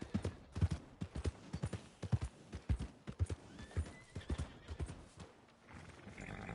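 Quick, rhythmic hoofbeats clop along at a steady trot in Red Dead Redemption 2, fairly soft, with a horse's whinny mixed in near the end.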